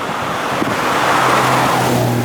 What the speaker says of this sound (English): here comes traffic